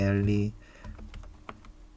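Animal names being typed in English on a computer keyboard: a brief voice, then a run of quick, light key clicks at an uneven pace, close and moderately loud.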